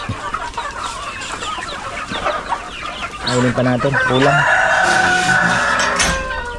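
Chickens cluck and a rooster crows loudly nearby, mixed with farmyard noise and brief talking.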